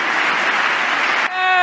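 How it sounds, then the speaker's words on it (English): Dense, steady applause from an audience at a political speech fills most of the moment, then cuts off abruptly as a voice begins speaking. "Yes, let's all clap this."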